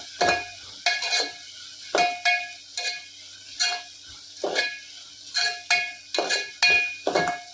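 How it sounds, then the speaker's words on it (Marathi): Finely chopped green chillies and onion sautéing in a pan, with steady, close spatula knocks and scrapes about once a second over a light sizzle and no talk. "थोडीशी बारीक कट केलेली हिरवी मिरची टाकतोय संपूर्ण परतळून घ्यायचं आहे"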